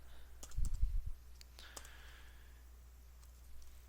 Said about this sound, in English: I did not want to type SpongeBob like that.